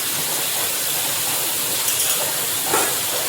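Eggplant and okra frying in a kitchen pan give a steady, loud, broadband sizzling hiss that runs unbroken throughout, with a couple of faint clinks near the end.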